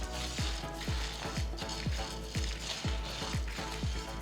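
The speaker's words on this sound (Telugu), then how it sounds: "వీటిని బాగా వేయించాలి." Cumin seeds, dried red chillies and bits of tamarind fry in hot oil in a pan, a continuous soft sizzle broken by regular scraping strokes of a spatula, close and fairly quiet with no talking.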